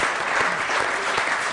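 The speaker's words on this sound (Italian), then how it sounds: "fategli un applauso" Audience applause at a comedy impressions show, a dense, steady clatter of many hands that fills the whole short stretch with no voices over it.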